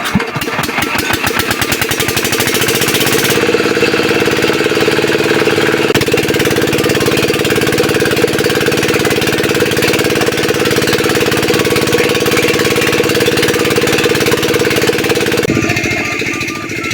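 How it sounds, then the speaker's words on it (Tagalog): A motorcycle engine started and left running after its CVT was cleaned, giving a loud, close, rapid mechanical clatter that settles into a steady idle and then shifts near the end, with no talking. "Kaya naman papaanda rin na ni Kuya Andoy yung makina."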